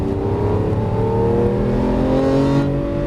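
A Lamborghini Aventador LP700-4 accelerates on a track, its engine note climbing steadily in pitch as it revs up, loud and close, with a brief dip near the end before continuing.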